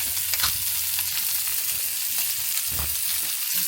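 Sausages, bacon and mushrooms fry in a pan for breakfast, a close, steady sizzle and hiss with a few soft crackles and shifting bursts, with no voices.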